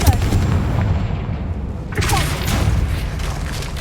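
A Confringo blasting spell detonates in Hogwarts Legacy, a broad booming burst midway that follows a steady rumbling bed of ambience, carrying a thudding, explosive weight without any voices.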